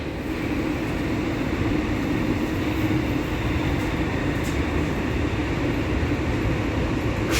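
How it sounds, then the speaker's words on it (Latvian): A Sofia metro train rumbles steadily from inside the carriage, a loud continuous roar of wheels and motors with no break throughout. "Jā, Sofijā ir metro, vislabākais transports."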